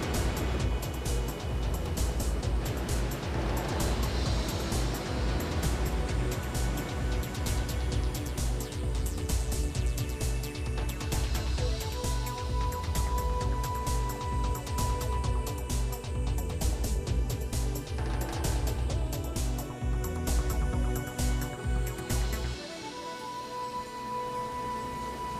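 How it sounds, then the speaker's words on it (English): Niagara Falls roars as a continuous, dense, full-band rumble and hiss, loud and unbroken. It drops slightly near the end, while a faint steady tone sits in the background. "Niagara Falls is not the largest waterfall in the world, but it's certainly one of the most dramatic"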